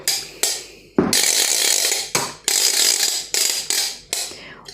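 A children's wooden clapper rattle toy clatters loudly in several rapid bursts of sharp clacking, close up, each burst separated by a short pause.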